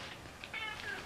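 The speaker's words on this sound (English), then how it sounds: "he's still meowing" A faint cat meows softly a couple of times, quiet and somewhat distant, in an otherwise calm room.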